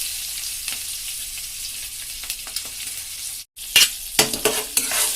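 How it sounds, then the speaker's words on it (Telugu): Green chillies and peanuts frying in a pan for poha upma, a continuous close sizzle with sharp stirring scrapes and clinks of the spatula, louder bursts toward the end. "ఒక 2 minutes పాటు బాగా ఫ్రై చేసుకోవాలి"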